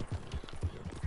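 Horse hooves clip-clopping in a steady rhythm, about six soft thuds at a walking pace, heard at moderate distance and fairly quiet.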